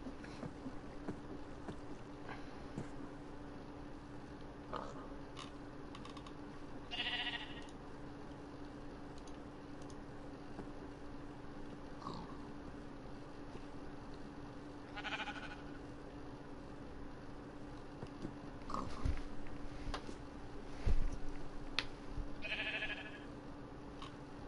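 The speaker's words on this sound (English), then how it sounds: "We have fucking sheep and pigs at the house" Minecraft sheep give short, nasal bleats every few seconds over a steady low game hum, with a few soft clicks and bumps between calls.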